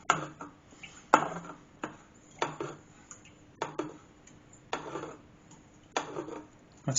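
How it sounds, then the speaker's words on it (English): Homemade wine stirred gently in a fermenting vessel gives a series of soft, regular knocks and scrapes, roughly one every second, close by and fairly quiet, with no talk. "Gentle stir."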